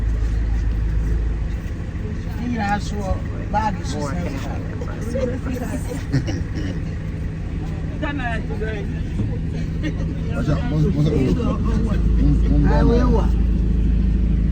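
A bus rumbles along on the way to a funeral site in Kumasi, Ghana, with a steady low engine drone under constant chatter from passengers on board.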